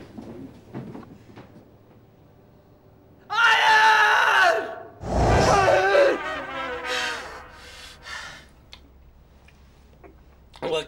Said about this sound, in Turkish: Ne bağırıyor ya?